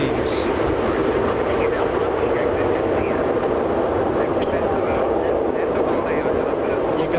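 An Airbus A380 airliner arriving at LAX produces a loud, steady broadband engine roar that holds throughout, close and continuous, with a voice talking over it.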